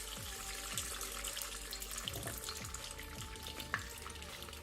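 Palm oil crackles and sizzles in an already smoking hot pan, a soft, even frying hiss with faint scattered pops and a brief clink, fairly quiet and steady.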